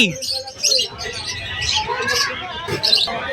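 Lutino Opaline pet birds chirp in quick, bright bursts at a busy Malabon pet market, close and lively, with a voice and background chatter underneath.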